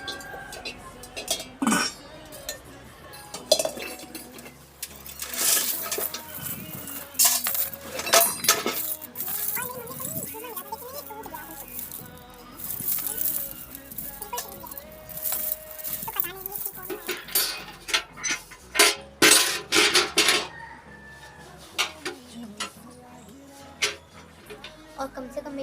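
Heavy brass dowry utensils, a ladle, skimmer, kadhai, plates, glasses and a lota, clink and clatter as they are handled, in irregular metallic knocks and rattles with a rooster and clucking chickens nearby and people talking.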